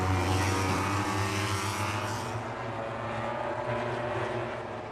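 MotoGP racing motorcycles, factory KTM and Ducati machines, at the 2025 Qatar Grand Prix night race: a loud, sustained engine roar with harmonic tones that shift as a bike brakes and downshifts into a corner, with no voices.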